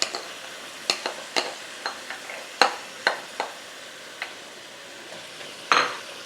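Onion, hot pepper, tomato and scallions cooking in a pan with green seasoning and garlic, a soft sizzle broken by a dozen sharp spoon taps and scrapes against the pot, no voices.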